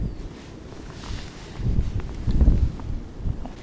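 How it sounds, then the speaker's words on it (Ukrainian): Gusty wind by the Desna River buffets the microphone in low rumbling surges, swelling louder midway, with faint rustling and no voices. "Такий вітер розгулявся, що біля води неможливо всидіти."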